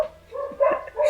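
A pet dog at home barks and yips in several short, close bursts, loud against a quiet room.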